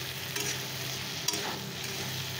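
Slices of homegrown eggplant fry in hot oil in a pan, a steady close sizzle with occasional soft scrapes and taps from stirring, no talking.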